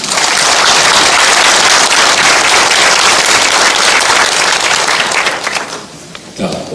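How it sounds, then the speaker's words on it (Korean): A crowd of local officials and residents claps loudly and steadily at a Jecheon city budget-plan briefing by the mayor, a dense wash of applause that holds for about five seconds before thinning out and trailing off. "박수 한번 부탁드립니다."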